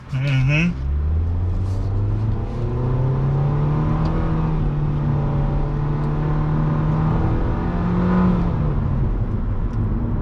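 A 2021 Nissan Versa with a 1.6 naturally aspirated engine pulls away and accelerates, its steady engine drone rising and holding in pitch from inside the car for about ten seconds.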